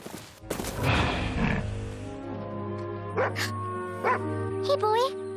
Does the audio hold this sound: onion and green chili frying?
no